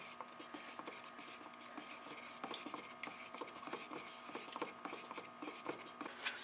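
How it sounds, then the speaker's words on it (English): A tool scrapes and rubs around the inside of a can of car paint as it is stirred, giving a faint, continuous rasping swirl with small irregular knocks, close by and without talk. "And stir it. You want to take your time stirring it because the paint's creating bonds."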